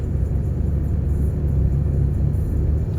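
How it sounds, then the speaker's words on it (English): A 2007 Chevy Impala on the move with a suspected worn wheel bearing, giving a steady low road rumble and hum that holds constant and moderately loud throughout, with no talking. "It does sound like there's a wheel bearing noise."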